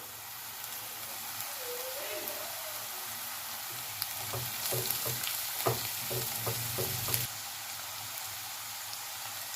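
Curry leaves dropped into hot oil with golden-browned fried onions for a Bombay duck gravy, a steady close sizzle with a burst of crackling and stirring scrapes in the middle, settling back to an even fry.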